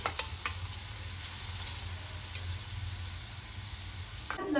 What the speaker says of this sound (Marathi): तेल गरम झालं की आपण जो कांदा कट करून घेतला होता तो कांदा घालायचा आहे आपल्याला